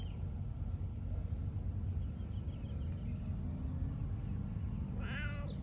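A single short cat meow rises near the end over a constant low engine rumble, as if from inside a moving car.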